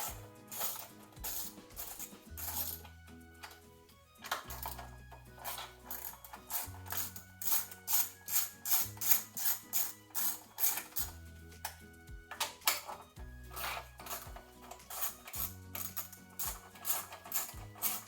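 A ratchet wrench loosens 11mm bolts on the engine cover of a seized lawnmower, clicking in quick, loud bursts with short pauses between runs and a low hum underneath.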